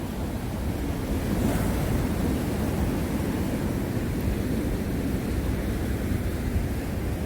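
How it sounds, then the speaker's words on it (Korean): Steady roar of sea waves crashing on rocks at Yeonggeumjeong beside Dongmyeong Port, continuous and loud, with wind noise blowing across the microphone throughout. "바위에 부딪히는 파도가 멋있습니다."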